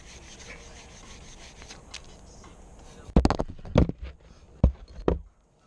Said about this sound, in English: See, then I hit this real quick with my sandpaper.